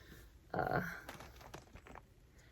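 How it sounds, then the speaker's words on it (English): Plastic bag crinkling close by, a burst of rustling followed by lighter, scattered crinkles and handling noises. "Try not to be too crinkly with the plastic bag sounds"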